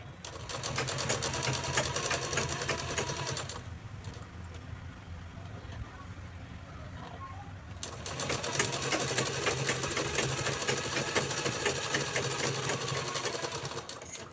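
A sewing machine runs steadily while stitching a narrow folded fabric strip onto a bag as a handle, whirring loudly with a brief quieter pause partway through.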